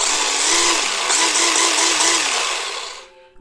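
Electric motor of a small toy RC drift car running in its fast mode, a steady high-pitched whine with slight wavering that cuts off abruptly near the end, heard alone.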